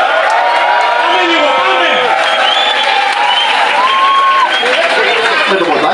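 Loud live-venue crowd applauding, cheering and whooping to welcome a blues performer on stage, with shouts and whistles over dense clapping and a voice calling out in the mix.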